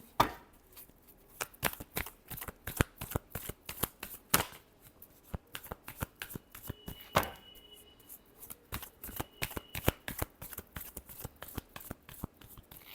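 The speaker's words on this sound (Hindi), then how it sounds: "लास्ट शफल, चलिए देखते हैं।" Tarot cards being shuffled by hand, a long run of rapid crisp riffling snaps and flutters, close and fairly quiet, with no talk.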